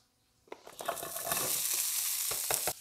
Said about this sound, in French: on va faire sauter ça à la poêle un petit peu